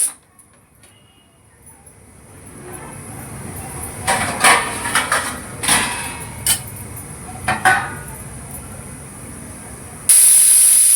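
A pressure cooker holding morya rice khichdi lets off hissing bursts of steam and short pulses of loud, close whistling, ending in a sustained high-pitched whistle.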